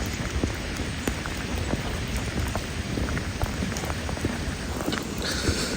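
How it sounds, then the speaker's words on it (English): Steady rain falling outdoors in Switzerland, a dense continuous patter of drops on surfaces close by, even in level with occasional sharper drips and no voices. "So this is how it looks when it's rain in Switzerland."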